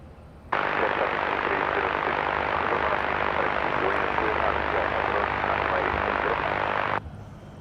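An airplane arriving at Madeira Island Airport on a windy day gives a loud, steady roar that begins suddenly and holds for about six seconds before cutting off.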